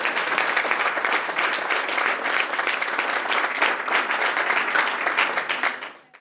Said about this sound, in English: One last round of applause for Terry.